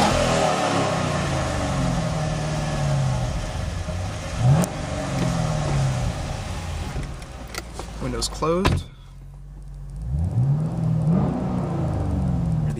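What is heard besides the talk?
2011 Chevrolet Camaro SS engine and exhaust revving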